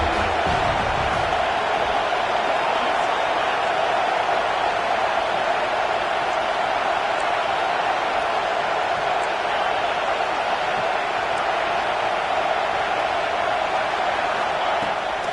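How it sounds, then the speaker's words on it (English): Football stadium crowd roaring steadily on third down at a Syracuse vs USC game, a dense sustained wall of cheering and noise filling the whole clip without letup. "Decibels rising as the crowd gets behind this defense on third down"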